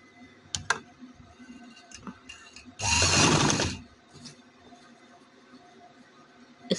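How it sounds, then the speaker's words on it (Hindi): A sewing machine stitching fabric for a garment neckline runs in one short loud burst of about a second, surrounded by quiet clicks and handling noises. "इसके साथ साथ मैं सिलाई लगा लूँगी।"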